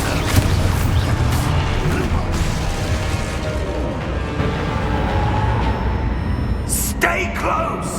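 Exposo blasting spell exploding in the Hogwarts Legacy video game: loud booming impacts and crashing debris over a dense rumbling battle din, with a sharper burst and crackle near the end and a voice calling out in between.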